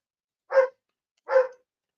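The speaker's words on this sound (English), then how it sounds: "I don't know what my dogs are barking at, but they're both having a go." Dogs bark twice in a household, two separate loud barks about a second apart with silence around them and no talk over them.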